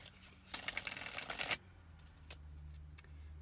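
A quick riffle of tarot cards being shuffled, about a second of crisp flutter close up, then quiet with a faint hum.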